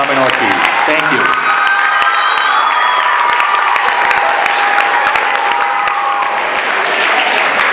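A middle school audience in an assembly applauds and cheers loudly, with whoops and shouting children over dense clapping; whistle-like tones glide across the first part, and the noise stays strong throughout.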